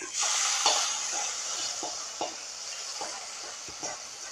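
Hot tempering poured into mango pulissery, a Kerala yogurt curry, gives a steady, moderately loud sizzle and hiss, with soft periodic clinks of a spoon stirring through it.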